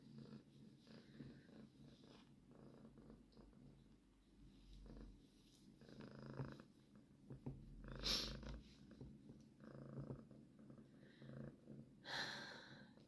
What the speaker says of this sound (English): Can you guys hear her purrs?